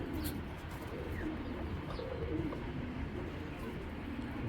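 Racing pigeons coo softly and steadily throughout, with occasional brief chirps, set against a constant low background hum in a loft.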